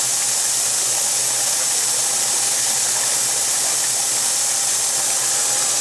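A model steam turbine runs at a steady, loud, high hiss with a continuous whirring drone underneath. It stays even for several seconds, with no talk.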